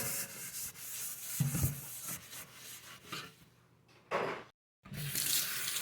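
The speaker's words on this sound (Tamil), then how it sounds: "பிசு பிசுன்னு இருக்கிறதுனால வாஷ் பண்ணிட்டேன்" An item is washed under a running kitchen tap: a steady close stream of water with rubbing and scrubbing, a brief pause when the flow cuts off, then running water again.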